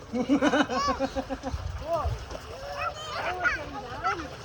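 Water splashes in bursts as people bathe, mostly under steady children's and adults' chatter, with a couple of heavier sloshes midway.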